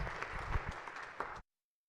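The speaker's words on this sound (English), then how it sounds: "give them a round of applause" A chamber audience applauds new Senate pages on the state Senate floor, a short burst of scattered clapping at moderate level that cuts off abruptly after about a second and a half.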